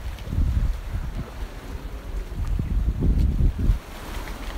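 Choppy, rough surf churns at Church Bay beach on Bermuda, a steady low rumble of breaking water with strong wind gusting across the microphone, rising and falling in loud waves without any speech.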